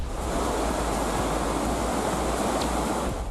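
Sea waves crash along a fishing-village shore in a continuous, loud roar of surf with no breaks and no voices.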